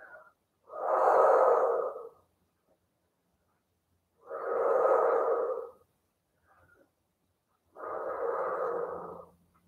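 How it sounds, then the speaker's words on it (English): Slow, deep breaths taken during a Pilates stretch: three long, close inhale-exhale swells with quiet pauses between them and no talking. "let's just take a couple of deep breaths here"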